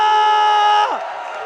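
Arena crowd at an MPL Season 14 Mobile Legends esports match, RRQ versus BTR, roaring loud and sustained with a steady tonal layer underneath that drops away near the end, no talk over it.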